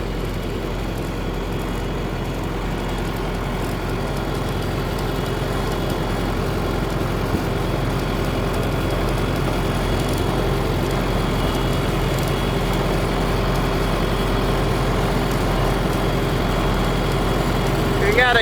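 A diesel tractor engine rumbles steadily at idle on an off-grid homestead before bush hogging, low and continuous throughout, with a person talking over it.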